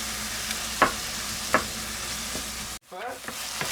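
Tomatoes for a fish stew sauté in a pan over a low flame, a soft steady sizzle with a few spoon scrapes, then a brief pause and the gentle frying resumes.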